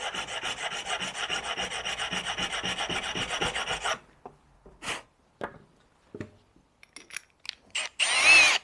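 A drill bit is sharpened by hand, a steady rhythmic rasping of file strokes for about four seconds, followed by scattered short scrapes and taps and a final louder grinding burst.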